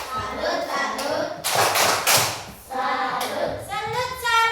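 A group of children performs the tepuk salut cheer, with bursts of rhythmic hand claps alternating with loud chanted voices in a lively, repeating pattern.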